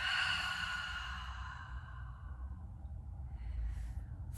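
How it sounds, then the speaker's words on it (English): A loud, breathy exhale at the close of a workout stretch, a strong airy rush in the first seconds that fades out, with a softer breath near the end. "Take an inhale through your nose. Loud exhale out."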